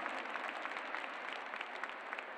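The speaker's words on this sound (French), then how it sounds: "vos applaudissements une nouvelle fois vont retentir pour saluer donc la présence de Luciana Delis" Spectators applaud at a Saut Hermès show jumping event, a fairly distant, even wash of clapping from a crowd in a large arena, steady for a couple of seconds.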